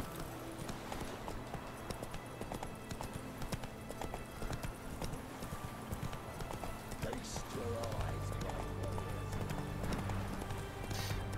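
Roach's hooves clip-clop in The Witcher 3, a game horse walking with a quick, steady beat. The steps sound fairly close and continue throughout, with faint game ambience and occasional talk beneath them.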